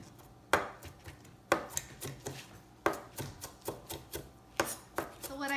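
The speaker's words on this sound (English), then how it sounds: "just go ahead and run your knife" A knife chopping food finely on a board for lasagna, with a series of sharp, close, distinct chops at an irregular pace, no talking.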